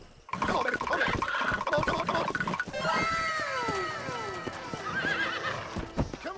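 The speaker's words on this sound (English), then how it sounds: "we're doing horse breaking, I guess, because I just ran into it." A horse neighs and whinnies loudly during horse breaking in Red Dead Redemption, with repeated high, falling whinnies over snorts and hoof clatter, all fairly close.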